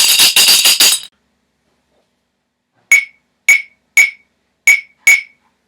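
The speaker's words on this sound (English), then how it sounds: "An old bottle with the same bolts in it, and this is a really cutting sort of a noise." An old glass bottle with metal bolts inside, shaken as a kitchen percussion instrument: a sharp, cutting rattle in a dense burst of fast shakes, then five separate crisp clinks spaced about half a second apart, close and loud with no talking.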